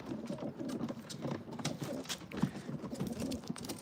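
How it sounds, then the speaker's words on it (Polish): Pigeons coo softly in low, repeated murmurs, mixed with faint shuffling and scattered clicks nearby. "Porsche od właśnie Marcina Sobczaka, także bardzo też dobry gołąb."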